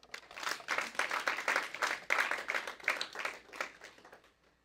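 A church congregation claps and applauds for a few seconds, with a dense, steady clatter of many hands that swells and then fades out at the end.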